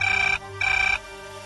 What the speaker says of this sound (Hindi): लो आ गया फोन।